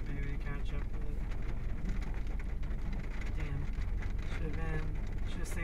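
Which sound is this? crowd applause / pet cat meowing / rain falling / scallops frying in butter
rain falling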